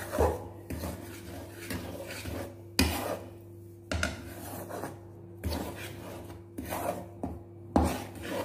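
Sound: stirring ghee into roasted gram flour in a pan

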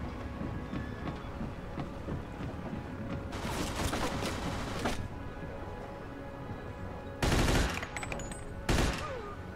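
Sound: tommy gun firing in the video game Mafia II

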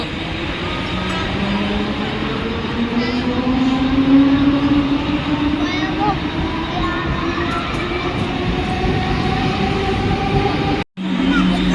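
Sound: Thane local train arriving at station

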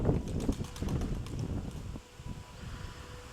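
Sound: strong south-westerly wind

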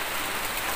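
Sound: rain

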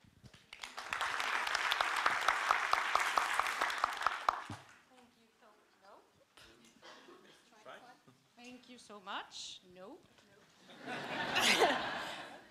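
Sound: audience applause at a conference

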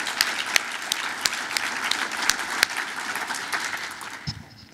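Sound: audience applause for the emcee

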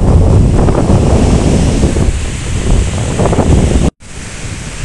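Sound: sea waves at the beach

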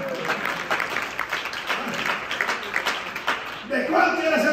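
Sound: applause in church

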